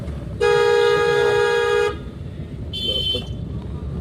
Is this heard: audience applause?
no